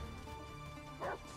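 A dog in the fantasy action game Dragon's Dogma II lets out a single short bark over a steady game soundscape, quiet and slightly distant.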